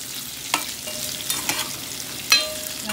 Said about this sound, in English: You'll just keep stirring them around. I just want them to get some color on them and kind of brown around the edges.